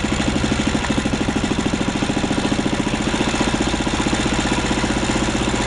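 A 1939 Lauson RSM 1hp air-cooled inboard marine engine runs on the high-speed circuit of a carburetor patched with JB Weld, chugging close and loud in a fast, even, throbbing rhythm.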